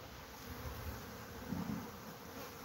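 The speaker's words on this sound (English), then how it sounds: "The insurance hive is looking pretty busy over here today." Honeybees swarm around a busy insurance hive, a steady, close, even buzzing drone that hums faintly without any talk.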